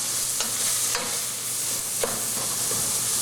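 Bison chili for a red Northeastern-style chili sizzles and splatters in a pan, a constant bright frying hiss with a few sharper pops, heard close and without talk.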